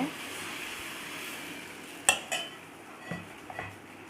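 Bread uttapam batter poured onto a hot pan gives a soft, low sizzle, then a few sharp utensil clicks and taps on the pan. It is quiet and close, with no voices.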